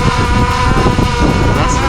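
DJI Air 2S drone propellers whirring right beside the listener, a loud close buzzing drone roar with a steady tonal whine and wind buffeting, brief and continuous.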